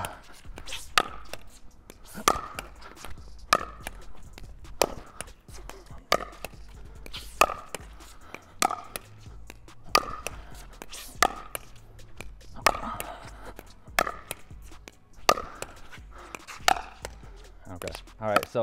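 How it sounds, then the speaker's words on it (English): Table tennis ball struck with a paddle in solo practice, alternating forehands and backhands, giving a steady series of sharp clicks and taps with a few mis-hits, heard near and fairly loud. "So a couple miss hits there off the paddle."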